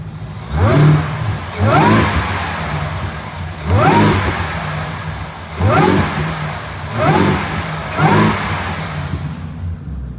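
A 2025 Ford Raptor R with its stock air filter and airbox lid on revs in five repeated bursts, each engine roar rising sharply and falling back to idle between pulses.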